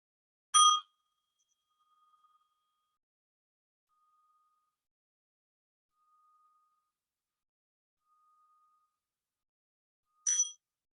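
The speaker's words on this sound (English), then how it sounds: "I take this old little Tibetan bell, and I'm going to ring it" A small old Tibetan bell struck twice about ten seconds apart, each a bright, short ring in a quiet room with a faint lingering tone between.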